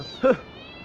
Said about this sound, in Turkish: Bu başka bir kedi.